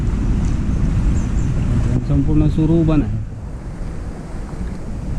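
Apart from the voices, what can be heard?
strong wind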